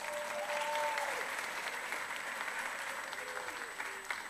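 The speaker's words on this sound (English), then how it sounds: "Give yourselves a round of applause." An audience gives itself a round of applause at an honorees' event, a dense, even wash of clapping lasting several seconds with faint voices and a brief tonal whistle underneath.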